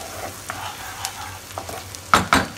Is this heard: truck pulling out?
no